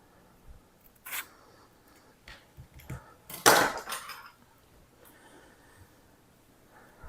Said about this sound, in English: I'm using one of my serving spoons, my metal serving spoons. I'm just going to cut it right off.